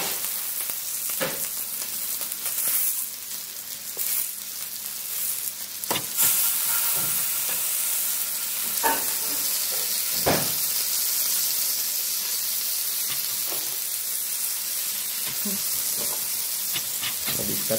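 Food fries and sizzles in a hot pan at home, a steady loud hiss with scattered crackles and stirring clatters throughout.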